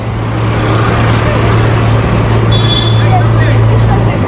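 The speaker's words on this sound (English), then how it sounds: "Nice little tuk-tuk." A tuk-tuk auto rickshaw passing on a Goa street near Baga and Candolim beach, a loud steady motor drone close by with traffic noise and voices around.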